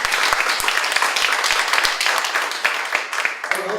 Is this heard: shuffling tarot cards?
no